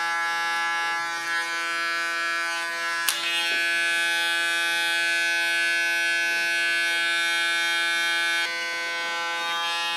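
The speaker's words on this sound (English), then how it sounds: "use the clipper ultra gently because it's a tool that can make ultra hard lines" An electric hair clipper buzzes steadily while cutting curly hair into an asymmetric bob, with a continuous close-up motor hum and a brief sharp click partway through.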